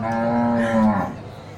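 A mother cow, one of a group kept with calves, gives a single close, loud moo that falls in pitch and fades out.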